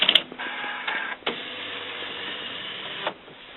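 An Epson WorkForce WF-7620 series printer's ink cartridge carriage travels across with a steady mechanical whirr lasting a few seconds, bracketed by soft clicks and thumps, close and fairly quiet.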